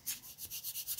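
Light sanding of a wooden part for a model aircraft tail assembly, a soft rhythmic rubbing of about eight gentle strokes, close and quiet with no voices.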